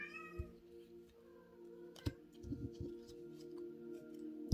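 Cat meowing indoors, a few short faint mewing calls over a steady low electrical hum with scattered ticks and rustles, no talking.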